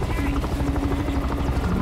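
A helicopter in the shooter game Bulletstorm drones steadily with a low, continuous rotor rumble throughout, heard at moderate distance beneath game ambience.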